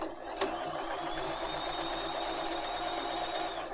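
A Bernette b33 sewing machine stitches a 3-step zigzag in a continuous fast whirring hum with a rapid mechanical chatter, close and steady throughout.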